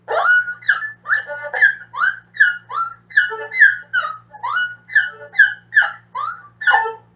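An erhu imitates a bird call with a series of about a dozen short, bright chirping phrases repeated in an even rhythm, close and clear, played solo.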